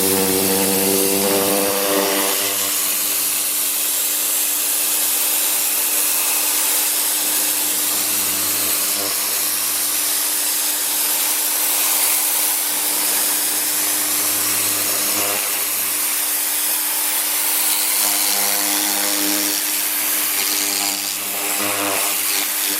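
A Greenworks 2000 psi pressure washer fitted with a turbo nozzle runs loud and close, giving a steady motor drone under a strong continuous hiss of the water jet blasting a surface.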